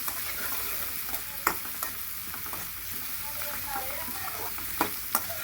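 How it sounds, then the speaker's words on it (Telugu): Onions frying in a pan for an Andhra-style chicken gravy give a steady close sizzle, with a few sharp clinks and scrapes of stirring over it. "ఈ ఆనియన్ దూరంగా కాల్చుకోవాలండి"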